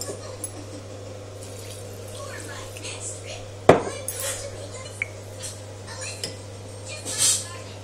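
Steamed vermicelli is moved between pots and dishes, with clinks of metal cookware and utensils, one sharp clatter near the middle, and light scraping over a steady background hum.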